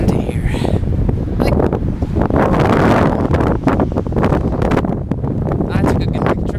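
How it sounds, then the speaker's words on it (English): Strong wind at Stonehenge buffets the microphone with loud, continuous roaring gusts and rustling, and a voice speaks briefly at the start. "It's really windy here."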